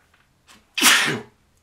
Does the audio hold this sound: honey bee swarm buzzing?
no